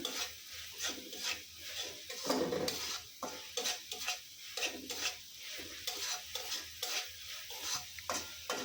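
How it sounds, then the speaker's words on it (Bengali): Spice paste with bay leaves sautéing in a pan for tuna curry, a soft sizzle under repeated rhythmic scrapes of a spoon stirring against the pot, close up and with no voices. "মশলাগুলো আমি যত ভালো করে কষাবো তত ভালো লাগবে খেতে"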